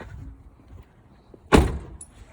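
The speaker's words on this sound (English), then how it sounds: "I'm opening my passenger door because I'll be getting in a minute." A passenger door on a Type I conventional school bus is opened, giving one loud, sharp clunk of latch and door near the listener, followed by a faint click amid quiet outdoor background.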